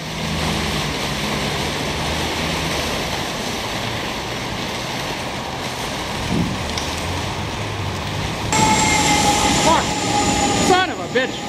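CN train approaching in the rain, a continuous rumbling wash of rail noise and rainfall that swells louder toward the end, with a high steady tone and squealing wheel sounds entering late.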